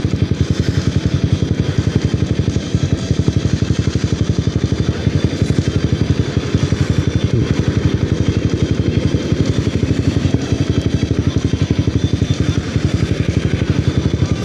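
A Honda CBR250R motorcycle engine runs steadily and loudly for the whole stretch while riding, a close, continuous rumbling drone with a rapid pulsing beat.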